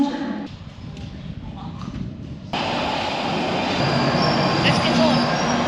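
An underground train on the London Northern Line arrives at a station: a low rumble gives way to a loud, sustained roar with a faint squeal of the wheels, while a voice talks over it.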